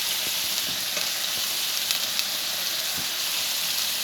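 Onions fry in oil for a murumeen fish masala, giving a dense, steady sizzle close by with faint clinks of stirring. It holds an even level for the full length, and no one speaks.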